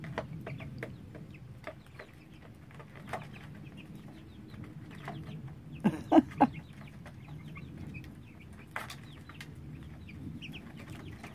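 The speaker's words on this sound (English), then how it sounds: "Got a lot of flapping going around." Chickens cluck softly in the background, then a brief burst of wing flapping rises up close before settling back to quiet clucking.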